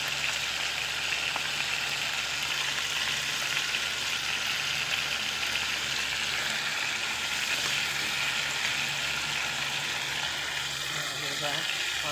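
Garlic sautéing in oil in a pan for chicken afritada, a continuous bright sizzle and crackle that stays steady throughout, with faint stirring and light background noise.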